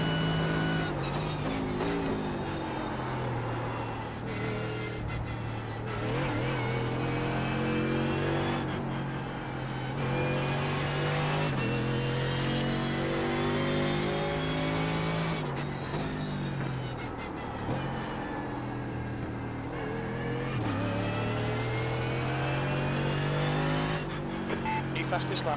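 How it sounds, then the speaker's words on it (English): A Mercedes AMG GT3 race car engine in the iRacing simulator at Spa, roaring steadily with rising and falling revs through gear changes, loud and continuous, with commentary voices over it. "Yeah, that Mercedes really has a nice sound. Sounds so powerful."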